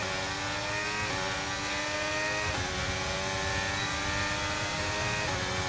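A Formula 1 race car engine in the racing video game Braking Point 2 holds a loud, continuous high whine, with its pitch dropping briefly at gear shifts before climbing again, and no voices over it.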